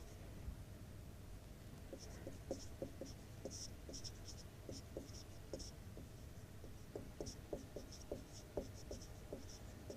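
Steady scratchy strokes of writing on a board during a Class 10 arithmetic progression maths lesson, coming in short quick clusters with small pauses, faint and fairly close against a low room hum.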